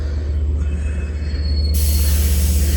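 A Long Island Rail Road Port Jefferson train passes close and loud late at night, a steady heavy rumble with wheel squeal rising partway through and no talking.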